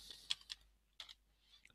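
Keys tapped on a computer keyboard while entering a screen name in App Inventor, a few quiet clustered keystrokes in two short bursts with a pause between, close and alone.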